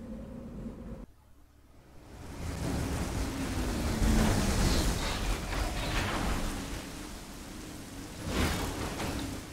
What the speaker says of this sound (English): All right, it's looks very rainy.